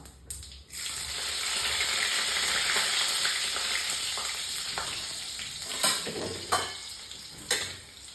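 Chopped garlic and curry leaves sizzle in hot oil in a pan over a medium flame, a steady loud frying hiss with a few clinks of a spoon stirring toward the end.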